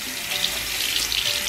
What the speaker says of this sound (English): I love how the water comes out.